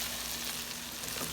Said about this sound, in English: about to drop in the mushrooms. Let those fry up.